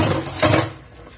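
Pots and dishes clatter and scrape in a kitchen sink being washed, a short burst of close metallic clinks with no talk.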